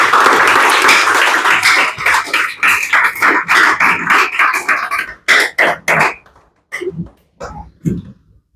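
Church congregation applauding loudly with dense sustained clapping that breaks into short bursts and then scattered claps, with a few coughs mixed in.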